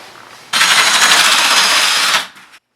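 A drill-driven paddle mixer mixing tile material whirs loudly and steadily for about two seconds, then spins down and stops.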